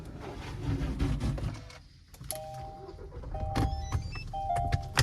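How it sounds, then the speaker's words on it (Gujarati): Automatic wipers on a Kia Seltos sweep across the windscreen by themselves, giving a repeated motorised whirr in three or four close passes with a few thumps, heard from inside the car. "આ તો બધું ઓટો વાઇપર વાળી સિસ્ટમ."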